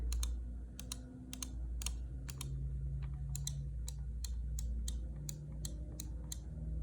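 Clicks from a Razer Viper Ultimate wireless gaming mouse: a quick, irregular series of crisp, close, faint button clicks over low background hum, with no talking.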